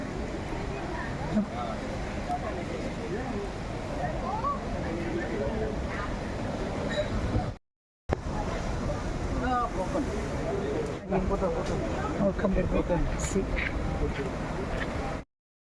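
Sea waves washing onto a beach at Kelingking and Broken Beach, a steady broad roar of surf with wind under it and people talking over it, briefly cut out midway.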